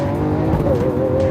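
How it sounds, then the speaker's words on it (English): A Lamborghini Aventador V12 engine growls loudly as it drops a gear, the pitch jumping and blipping briefly, heard close up. "The engine is ferocious sounding."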